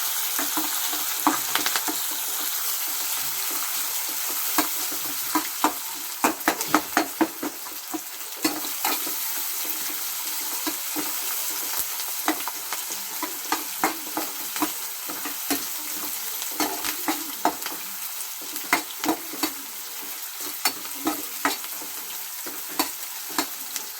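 Onion, green chilli and curry leaves fry in a pan, giving a steady background sizzle broken by frequent clicking spoon-against-pan stirring taps, close and alone.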